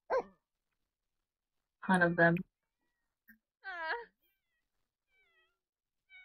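Cartoonish cat meows and dog barks from pets in The Sims 4, short separate calls with gaps of silence between them, mixed with people talking.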